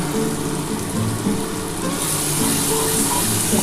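Capsicum sizzling in a pan of spicy egg curry, a steady close frying hiss with light stirring that swells slightly toward the end.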